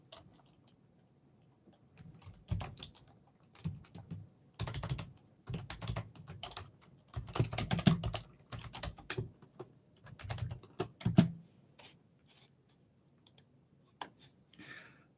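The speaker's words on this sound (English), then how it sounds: "my typing sounds loud because it's right next to the microphone" Fast clicky typing on a computer keyboard placed right beside the microphone, loud close bursts of keystrokes separated by short pauses, sparse and irregular, with no talking.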